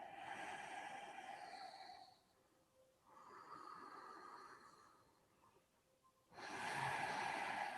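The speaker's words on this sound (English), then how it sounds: "Hoping that you're breathing into your belly." Slow, deep yoga breaths drawn in and let out close to the microphone, two long airy breath phases separated by quiet pauses, then a third beginning, with no talking.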